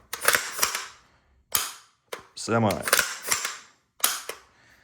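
Dry-fire function check on a semi-auto rifle after a Vikhr trigger install, giving a handful of sharp, close mechanical clicks and snaps spaced apart, with a brief tonal whine in the middle.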